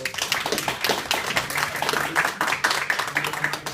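Audience applause at a university debate between Binus University and UPH, dense steady clapping from a crowd throughout, moderately loud and continuous with no break.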